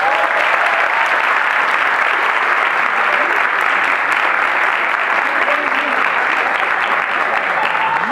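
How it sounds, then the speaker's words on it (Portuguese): A theatre audience at a social theatre workshop performance gives dense, continuous applause for the cast, loud and close, with faint voices mixed into the clapping. "Vou falar o nome de cada um e a gente aplaude."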